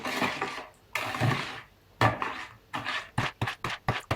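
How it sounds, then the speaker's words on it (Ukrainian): Bread dough with diluted yeast being stirred in a bowl, a run of close scraping, knocking strokes that come in uneven bursts, quickening into short repeated taps toward the end, with no talk. "Також вливаю розведені дріжджі, перемішую."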